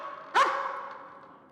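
A police dog gives a single sharp bark during a building search inside a large, empty school, its echo fading in a quiet, reverberant space.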